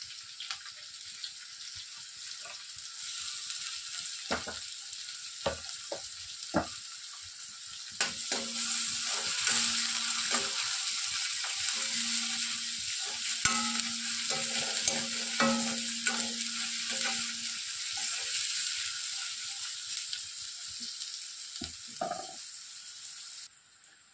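Onions sizzling and frying alongside soya chunks in a pan, a steady loud crackle running throughout with occasional stirring scrapes and clinks.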